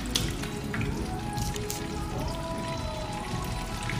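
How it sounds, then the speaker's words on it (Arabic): Chicken strips going into hot oil to fry, a dense, steady crackling sizzle like heavy rain, close and fairly loud throughout, with no talking. "بسم الله ننزلها بالزيت"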